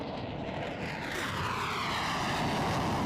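A loud, sustained roaring whoosh of a missile in flight, with broadband rumble that builds steadily and holds strong throughout.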